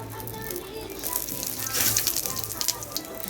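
Whole cumin seeds sizzling in hot oil in a pan during Bengali cooking of muro ghanto, a steady close crackling fry with brief spattering bursts.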